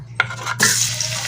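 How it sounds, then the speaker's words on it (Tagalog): Garlic hits a hot pan for sautéing at the start of a Filipino chicken soup with vegetables, giving a sudden close sizzle after a single light clink. "Gisa natin yung bawang"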